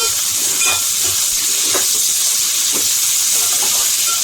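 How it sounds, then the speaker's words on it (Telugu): Pieces of drumstick (moringa pods) frying in a pan for an egg drumstick curry give off a steady, bright sizzle, with faint soft stirring knocks underneath. "ఇవి బాగా పచ్చివాసన పోయే వరకు వేయించుకోవాలి"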